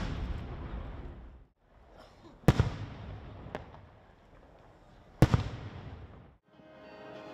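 Competition fireworks at a Japanese display: three sharp explosive bursts, each followed by crackling and rumbling decay over a continuous roar of distant shells, with no talking.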